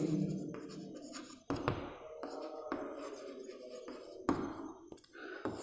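Hand writing during a Class 7 maths lesson: repeated scratchy pen-like strokes with sharp taps at intervals, close and fairly quiet over steady room noise.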